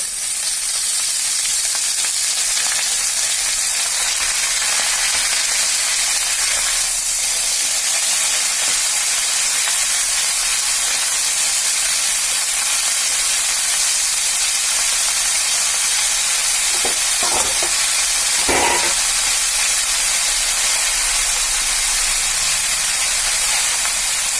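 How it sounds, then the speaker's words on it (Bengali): Red amaranth greens go into hot oil with garlic and are stir-fried, producing a loud, continuous sizzle and hiss that fills the whole stretch, with a few brief clanks of stirring near the end and no talking. "ভাজা হয়ে গেছে লাল লাল করে এবার আমি শাকটা দিয়ে দেবো"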